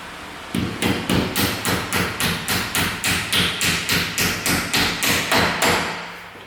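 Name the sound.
hammer gently tapping sliding window wheel carrier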